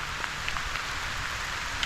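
Steady rain falling on a hill near the highest point of Xalapa, a dense, even hiss of drops throughout, close and continuous, with no voices.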